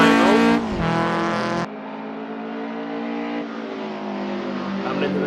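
Toyota AE86 race car in a racing video game at Lime Rock, engine revving loud and steady with shifting harmonic pitch as it drifts through corners, with a sharp drop around two seconds and continuous drone after.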